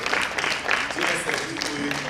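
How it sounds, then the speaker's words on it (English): Applause from a crowd welcoming students at a school spelling bee competition, steady clapping filling the short moment with some voices mixed in. "Please a round of applause while we clap."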